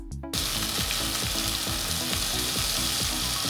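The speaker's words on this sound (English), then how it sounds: "As it cooks, you will start to hear a sizzling sound." Loud, dense sizzling of chicken skin frying in a pan, a constant crackle that kicks in after a short moment, with a low repeated rhythmic thumping underneath.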